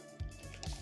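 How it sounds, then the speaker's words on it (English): Liquid poured into a pottery mixing bowl gives a soft, faint squishing and dripping that lasts under a second, close by and quiet. "we're gonna just pour this right into the master mix."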